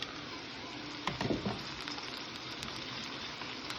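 Tripe sizzling and frying in a pan with onions, a steady crackle with a brief burst of stirring and scraping near the start, close and moderately loud, no voices.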